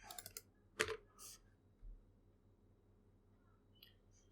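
A computer keyboard gets a short burst of quiet taps as a root password is entered, followed by a sharper click or two and scattered faint keystrokes, close and without talk.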